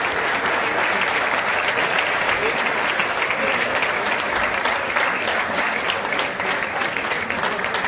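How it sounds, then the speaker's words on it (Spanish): Sustained applause from a crowd at a summer golf championship prize ceremony, dense and steady throughout, loud and close with no pauses. "Un aplauso."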